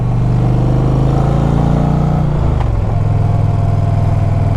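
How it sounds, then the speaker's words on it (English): A 2026 Indian Pursuit Dark Horse motorcycle engine idles loud and close with a steady low rumble, its pitch dipping slightly midway before settling back to an even idle, with no talk. "I'm going to leave the visor open for a minute so you guys can hear the engine"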